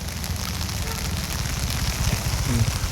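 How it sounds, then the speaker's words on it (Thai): Heavy rain pours steadily during a flood near a railway station, a dense continuous hiss with low rumbling, loud and close throughout. "ฝนตกหนักเห็นไหม"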